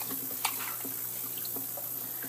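Tap water runs steadily into a sink to rinse stone from a dental model, a continuous faint wash with a small splash near the start.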